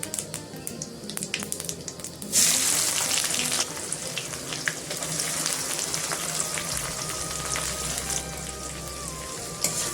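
Onions and cumin seeds frying in oil in a kadhai, a steady close sizzle and crackle that swells louder partway through and continues without pause, with no talking.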